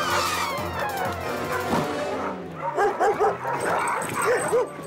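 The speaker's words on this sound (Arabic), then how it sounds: "أودي، كلب سيء." Cartoon dog from a Garfield animated episode barks a few times, then lets out several high whimpering yelps in quick bursts, loud and close, with some voice and clatter around it.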